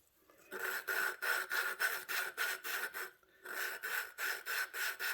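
A lapping tool is rubbed back and forth to grind an engine valve on a 20HP Vanguard engine head. Rhythmic raspy strokes, about a dozen close scrubbing passes, pause briefly midway, then resume, with no talk.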